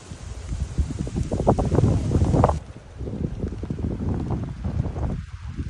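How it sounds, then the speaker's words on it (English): Breezy wind buffets the microphone outdoors on a rainy coastal walk in southern Tasmania, a steady low rumbling roar with gusts swelling and easing throughout, close and fairly loud, no voices. "A little bit breezy on the walk back."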